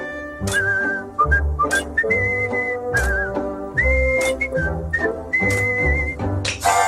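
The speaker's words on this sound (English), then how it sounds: "Whistling while you work." Someone whistles a bright, jaunty tune of quick notes and short trills over a bouncy instrumental backing.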